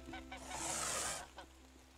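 Geese in the farming game Everdream Valley give a harsh, hissing honk that swells and fades within a second or two, over a steady low background hum.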